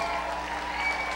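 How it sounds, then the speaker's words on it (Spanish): An audience applauds at the end of a concert with a symphony orchestra, a brief, steady wash of clapping heard at a moderate distance. "más fuerte ese aplauso"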